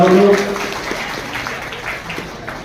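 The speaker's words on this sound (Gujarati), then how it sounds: "જરા તાળીઓથી જોરદાર વધાવો" Audience applause at a Shrimad Bhagavat Katha religious gathering in Gandhidham, a steady wash of clapping from a seated crowd that starts loud and eases to a softer continuous patter, with a low tonal hum at the start.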